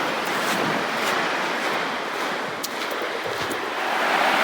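A constant wash of ocean waves with wind noise around a boat lying at anchor off the Kimberley coast, broad and steady with small rises and a few faint clicks.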